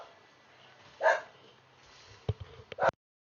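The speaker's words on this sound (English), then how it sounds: "That's my dog kicking off." A pet dog barks indoors in two brief bursts, a single yap followed later by a short cluster of sharp barks, moderately loud against a quiet room background.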